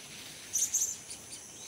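Serindit hanging parrot in a cage, giving a few thin, high chirps in a brief cluster, fairly faint over an outdoor background hiss.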